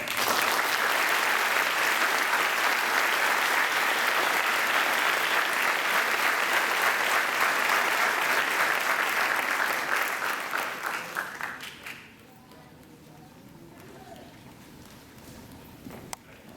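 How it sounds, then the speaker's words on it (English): Sustained applause from an audience at a fire department promotion ceremony, loud and dense for about ten seconds, then tapering off into quiet room noise. "Let's give a round of applause."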